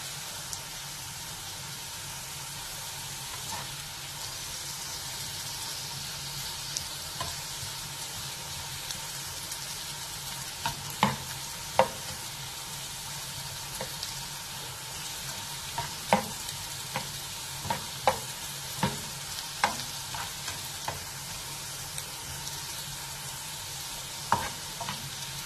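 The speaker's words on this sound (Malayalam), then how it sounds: "ഇതുപോലെ മറിച്ചും തിരിച്ചിട്ട് ഇങ്ങനെ മൊരിച്ചെടുത്തോണ്ടിരിക്കുക." Food stirred and fried in a pan, turned over and over until crisp, gives a steady sizzle with scattered scraping clicks from the spatula, close and alone.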